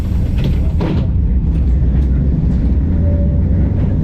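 An old tram at a tram enthusiasts' conference rumbles along with a low, steady rolling drone, loud and close, with a faint squeal partway through.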